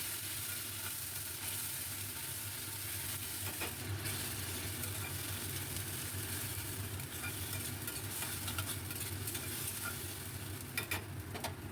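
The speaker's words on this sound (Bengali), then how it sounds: "খুব ভালো করে আমি নাড়াতে থাকবো।" A paste of tomato, ginger and green chilli fries in oil while being stirred, producing a steady, close sizzle with continuous scraping and stirring throughout and no talk.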